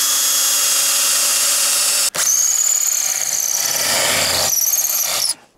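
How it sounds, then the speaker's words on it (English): A drill with a countersink bit bores through roofing slate, a loud high-pitched squealing grind that starts after a steady motor whine, holds with wavering pitch, then cuts off abruptly. "So this is going to trash your countersink and your drill bit"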